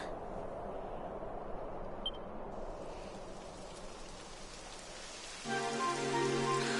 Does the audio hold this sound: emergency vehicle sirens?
no